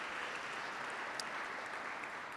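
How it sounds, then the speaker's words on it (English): An audience in a conference room at an urban mobility event applauds a speaker, a continuous, even hiss of many hands clapping at moderate distance, with no clear individual claps and no talk over it. "before we give her an applause"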